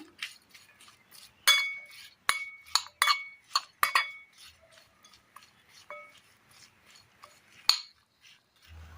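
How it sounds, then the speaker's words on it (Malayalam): Spoon clinking against a bowl while eggplant pieces are mixed with turmeric powder and salt: scattered sharp clinks and taps in uneven bursts, fairly close, with no talking. "ഇതിലേക്ക് ഒരല്പം മഞ്ഞൾപ്പൊടിയും ഒരല്പം ഉപ്പും ഇട്ട് കൊടുത്ത് നന്നായി ഒന്ന് മിക്സ് ചെയ്തെടുക്കാം."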